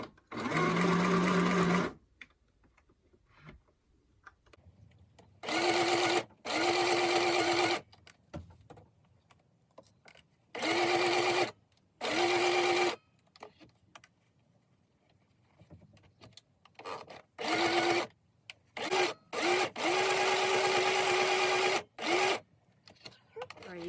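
Sewing machine stitching around the edges of a cloth face mask, running in several distinct bursts of steady whirring separated by short pauses, loud and close.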